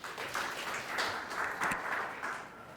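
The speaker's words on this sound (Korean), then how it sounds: "큰 박수 부탁드립니다" Seminar audience applause as a researcher is introduced, faint, moderate clapping from a modest room crowd lasting a few seconds.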